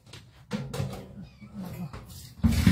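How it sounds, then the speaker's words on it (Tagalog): Several house cats meow repeatedly in a home, close and fairly clear, with short overlapping cries and a louder burst at the end, alongside light household knocks. "Ang dami kong pusa."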